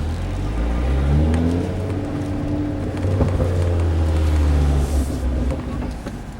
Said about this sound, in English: is the burble I get.